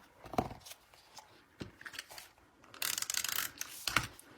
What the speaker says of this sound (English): I'm actually going to cut this in half the long way.